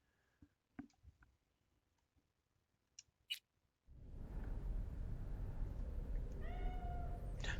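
A house cat gives a single short meow near the end, partly buried under a loud, steady rush of noise that follows a quiet stretch of scattered small clicks.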